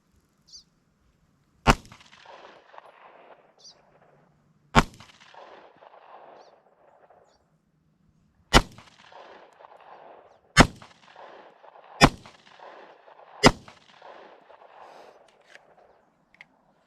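A Glock 43 pistol fitted with a PSA Micro Dagger conversion fires six sharp, loud shots at irregular intervals, each cracking cleanly and ringing briefly with a faint echo, with quiet gaps between them.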